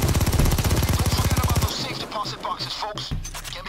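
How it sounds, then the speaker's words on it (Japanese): A drill runs in the PAYDAY 2 VR bank heist game: a loud, fast, steady mechanical rattle for about a second and a half. It then gives way to busier, clattering game sounds and bursts. "もう一個ドリル設置するぞ"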